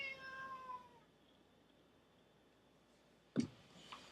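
A house cat meows in a drawn-out, wavering call at the start, then gives a short sharp chirp after a quiet pause, close and fairly faint.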